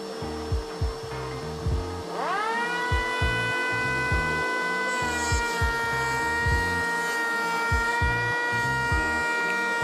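An Einhell TE-PL 18/82 Li cordless planer whines steadily while its cutter chamfers a wood edge in repeated rough strokes, close up and loud with no talking.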